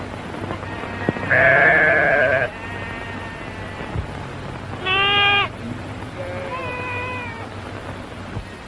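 Sheep being herded let out several loud wavering bleats, a long call followed by shorter ones, with low ambient noise between them.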